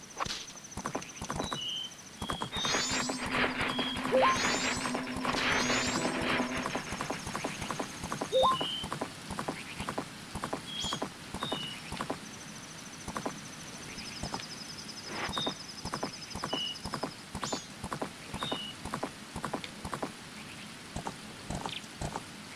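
Epona the horse gallops in Ocarina of Time, with steady hoof clip-clops in a brisk rhythm alongside game chimes and music, plus a brief whinny; no talking.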